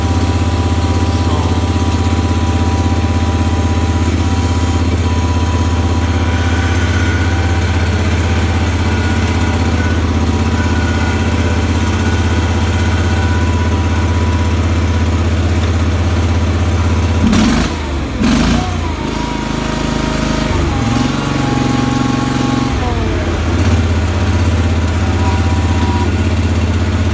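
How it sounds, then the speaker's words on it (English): A Cub Cadet 1650 lawn tractor with a freshly installed engine idles smoothly at close range, a steady low throbbing drone that dips and shifts briefly partway through before settling back to an even idle. "boy, does it run smooth. Of course, the engine's only got about an hour and a half on it, so I don't want to rev it a whole lot"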